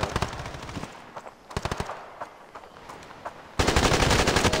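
Assault rifle gunfire in the mobile shooter game Standoff 2, rapid automatic bursts broken by short pauses, ending in a dense, loud sustained burst.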